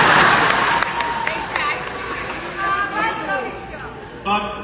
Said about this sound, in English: if you continue with all the cheering